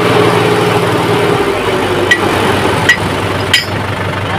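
A small diesel tractor engine idles steadily nearby outdoors on a farm, a loud constant chugging drone with a few sharp metallic clanks over it.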